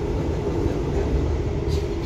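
Inside an Indonesian KA Lodaya economy train, a steady low rumble and hiss of the carriage running on rails fills the short stretch evenly, heard close with no clear talk.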